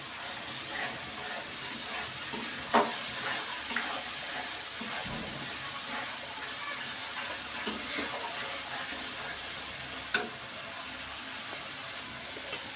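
A sweet-and-sour spice mix for biryani sizzles steadily in a pan, with occasional scrapes and clinks of a spoon stirring it, moderately close and continuous with no talk.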